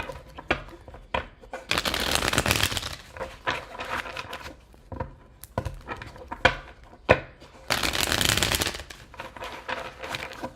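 Tarot cards being shuffled by hand in two long riffling bursts, with softer taps and card handling between them, close and fairly loud, no talk.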